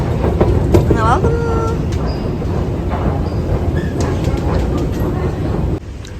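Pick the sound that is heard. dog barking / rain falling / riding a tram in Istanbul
riding a tram in Istanbul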